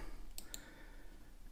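Keys on a computer keyboard's numeric keypad tapped while entering an Alt code, giving two quick, faint clicks close together over a quiet background.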